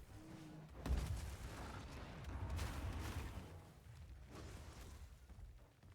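A skull ability in an action video game sets off a booming explosion with a sharp blast near the start, followed by rumbling bursts and crackling that fade over several seconds.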